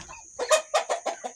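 Hungry pet ducks call in a quick run of about five short, nasal honks, close by, following a brief quiet lead-in.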